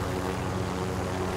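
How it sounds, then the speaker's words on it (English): Helicopter in Call of Duty: Modern Warfare, a steady, dense rotor and engine drone that stays loud and unbroken throughout. "That's a helicopter."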